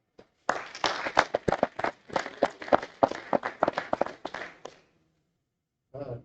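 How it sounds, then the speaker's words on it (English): A small gathering at a military squadron ceremony claps for the organizers of a winter carnival, sparse, distinct close handclaps in an uneven patter that stops abruptly, followed by silence and a brief voice. "So just a big round of applause for them."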